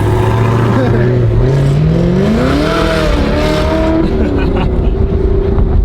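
Engine of a car launching hard off the line in a race, a loud near roar rising steadily in pitch as it revs up through the gear, with a voice talking over it.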